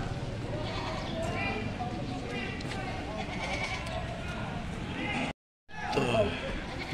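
Goats at a rainy provincial livestock market bleat now and then amid a busy crowd, their calls mixed under near, constant chatter and a brief dropout of sound.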